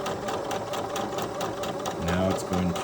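A Singer Heavy Duty 6800C sewing machine runs steadily while stitching a buttonhole, giving a fast, even mechanical chatter close by with a slight rise in pitch near the end.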